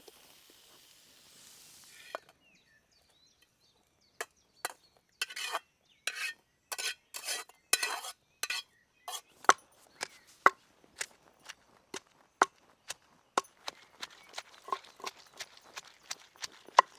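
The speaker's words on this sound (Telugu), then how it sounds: "ఇప్పుడు వీటిని దించుకుని నూరుకుందాం." Fried coriander is ground into paste for a village-style chicken fry, with sharp knocking and clacking strokes that start sparse, fall into a steady rhythm and then speed into a rapid series of taps, fairly faint overall.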